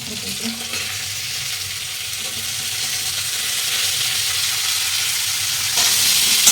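Beans and carrots fry in a pan for Maggi noodles, producing a loud, continuous hissing sizzle that swells slightly toward the end.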